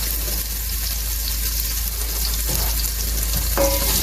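Carrots hit a hot pan and sizzle steadily, a close, constant frying hiss with a brief stir near the end.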